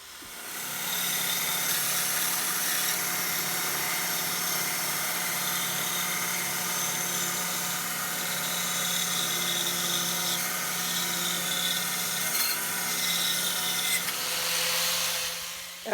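Power carving tool shaping the outside of a walnut bowl, a steady close high whine with grinding texture that runs continuously without pause.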